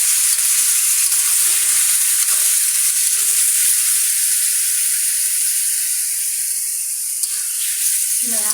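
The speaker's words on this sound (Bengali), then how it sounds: "দিয়ে দিলাম 1 চামচ পরিমাণ রসুন বাটা, আবার একটু নাড়াচাড়া করে নিই।" Garlic paste and beef fry in a hot pan with raw jackfruit cooking, a loud steady sizzle and hiss running throughout, with faint stirring scrapes beneath and a clunk near the end.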